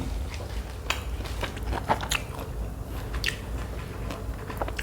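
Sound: crunchy pork rinds being bitten and chewed

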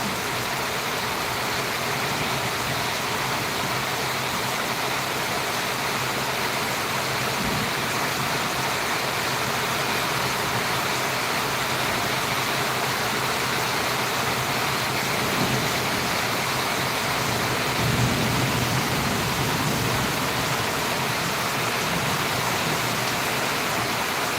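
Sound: heavy rain with thunder in Valliyur

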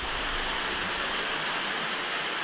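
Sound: water running into a pool for a water change

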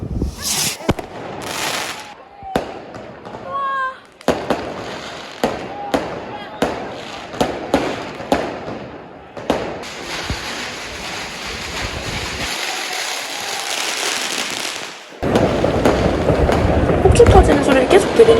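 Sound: New Year fireworks and firecrackers set off in the street

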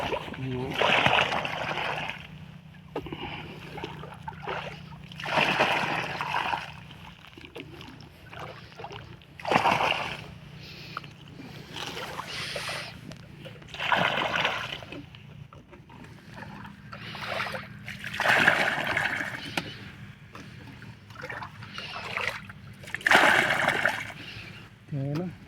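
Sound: water flowing into a wheat field

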